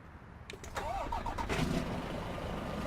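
A heavy diesel DAF XF Euro 6 truck engine in Euro Truck Simulator 2 cranks, catches with a sharp burst, then settles into a steady, loud rumbling idle.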